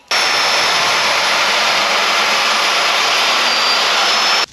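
A power saw held in a guide cuts loudly and steadily for about four seconds during a roof repair, a harsh roar with a thin high whine that starts and stops abruptly.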